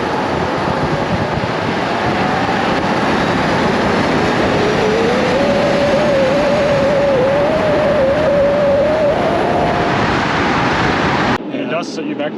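A 1988 Mercedes-Benz 560SEL with its 5.6-liter V8 accelerating smoothly through a kickdown, heard as a loud, steady cabin drone whose pitch climbs gradually, with road and wind noise and no talk until a sudden cut at the end.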